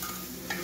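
Brief close sizzling and crackling of spices frying in hot oil, with a soft stir partway through.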